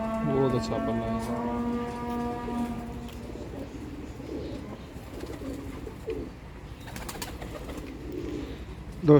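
Sialkoti pigeons kept by a breeder in Sialkot cooing in soft repeated low coos, close by, with someone talking over them throughout.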